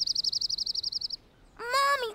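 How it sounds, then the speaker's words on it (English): A rapid series of high, thin bird chirps trills for about a second, followed by a brief tonal squeal. "was startled and excited to hear the bird chirp."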